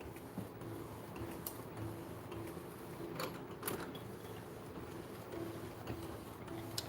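An Epson EcoTank ET-8550 converted for DTF film printing runs quietly nearby, a low mechanical hum broken by irregular ticks and clicks from the moving print head.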